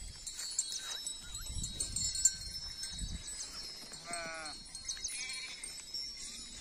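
Sheep let out to graze early in the morning give a few wavering bleats at moderate distance, heard among soft rustling and faint background noise, with no voices.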